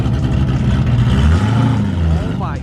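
A loud modified Nissan GT-R with its engine exposed through the hood revs on a street among other cars, a deep continuous engine roar that rises and settles over a few seconds, with voices talking over it.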